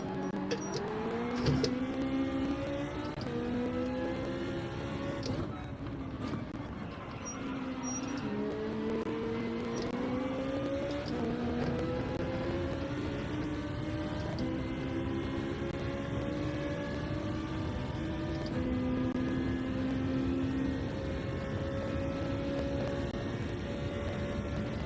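Racing car engines in a racing video game whine steadily, their pitch rising and falling through gear changes as several cars run close together in a continuous, fairly quiet drone.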